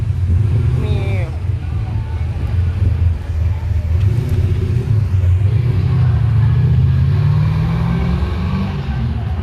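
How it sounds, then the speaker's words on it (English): A muscle car's deep engine rumble at a Brisbane protest, loud and steady, rising as it revs and passes close by, with people talking over it. "Yeah, that's a muscle car."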